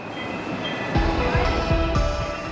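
An MRT metro train in the Philippines rolls along the rails with a steady rumble and rhythmic low thumps as wheels pass over joints, heard from inside, with faint voices.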